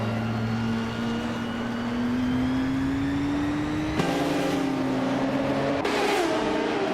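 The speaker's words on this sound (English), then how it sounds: "She's zooming in that vintage 1996 Osella P-A20 BMW." A vintage 1996 Osella PA20 BMW race car engine holds a steady, high-pitched whine that climbs slowly. It drops back with sharp gear changes around the fourth and sixth seconds, loud and continuous with no talk.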